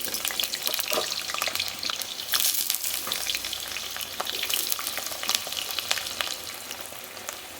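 Fenugreek greens and potatoes fry in oil in a pan, a close, crackling sizzle with scattered sharp pops and stirring clicks, with no speech.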